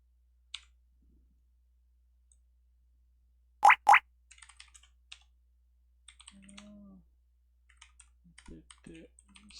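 A computer keyboard in use while a command is entered in a terminal, giving a few scattered quiet key clicks and one louder double tap amid near silence, with some soft speech nearby.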